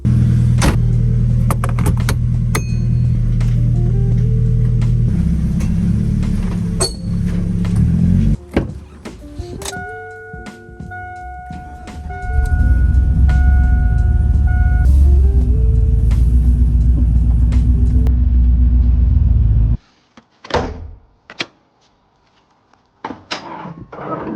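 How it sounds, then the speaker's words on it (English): A Chevrolet Silverado truck with a fuel leak idles and is maneuvered into a home garage, its engine droning loudly and close, with door thuds and a beeping tone partway through before the engine cuts off near the end. "got the truck pulled in the garage"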